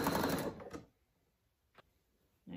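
A domestic sewing machine runs steadily for about half a second as it stitches a fabric seam on a hanging pouch bag, then stops, leaving quiet broken only by two brief, soft clicks.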